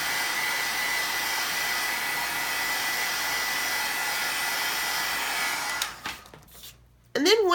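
A hair dryer blows steadily and close for several seconds while drying the back of a craft card, then shuts off, leaving brief handling noises.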